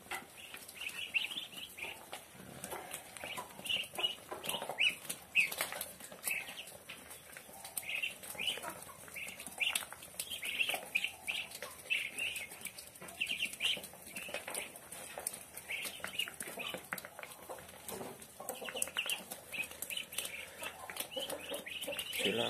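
Muscovy ducks kept in a small backyard pen give soft, scattered calls and hisses with some wing flapping, steady and fairly quiet throughout, no talking.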